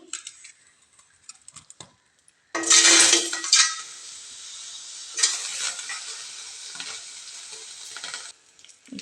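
Chopped tomatoes hit hot oil in a pan for mint chutney, with a sudden loud sizzle that settles into steady frying, and a spoon scraping and stirring the pan, close up, with no talking.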